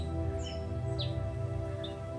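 A few brief, faint bird chirps on a mountain trail on Mt. Ugo, Philippines, scattered over a steady low hum, spaced apart with quiet gaps between them.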